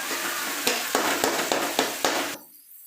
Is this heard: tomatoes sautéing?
yes